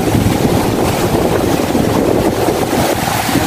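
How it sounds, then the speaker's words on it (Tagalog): Strong gusts from Typhoon Odette roar loud and close, a continuous buffeting rumble hitting the microphone with a churning, surf-like wash underneath. "Yan yung hangin na."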